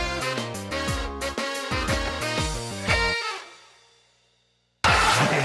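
Music from a Rhythm Heaven video game level near its end: bouncy rhythmic melodic phrases that cut out into a fading pause of near silence before the music bursts back in.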